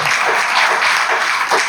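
Audience applause following a request to applaud a veteran actor at an Argentine art event, a dense, steady wash of clapping lasting under two seconds with no pauses.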